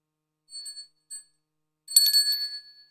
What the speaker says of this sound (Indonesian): Empu Sidimantra duduk bersila sambil membunyikan genta yang dibawanya.